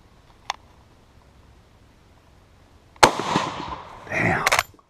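An Austrian Steyr M95 infantry long rifle fires one loud, sharp, close shot that rings out and decays. A smaller crack comes earlier, and a rough rattle or handling noise follows near the end.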